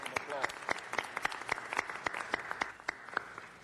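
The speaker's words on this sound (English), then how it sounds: "Let's give Isabella Wilkerson a big round of applause." Audience applause for author Isabel Wilkerson at a city council meeting, a moderately loud stretch of scattered, sharp claps spread across the room, with some voices faintly present underneath.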